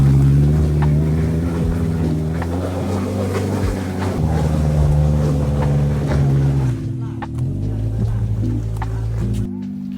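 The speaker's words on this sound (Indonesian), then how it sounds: "Makanya ini gue mundur lagi untuk gue kempesin sedikit tekanan angin ban gue supaya lebih gampang naiknya." An off-road car reverses on a slippery forest dirt track, its engine a steady, close droning rumble that dips and eases toward the end.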